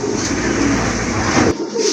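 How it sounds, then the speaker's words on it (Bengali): A big English Helmet knot pigeon coos close by against a steady, dense rush of background noise, with a brief dip near the end. "বিগ সাইজের একটা আপনার ইংলিশ হেলমেটের নট কবুতর রয়েছে"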